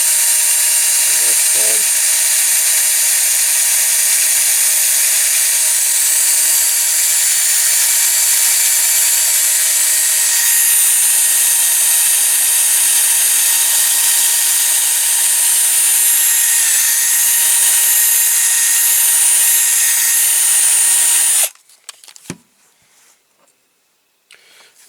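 A power drill runs continuously while cleaning a part from a Lesney Matchbox No.4 Dodge stake truck, a loud steady whine for about twenty seconds before stopping, followed by brief handling noises and a short spoken comment.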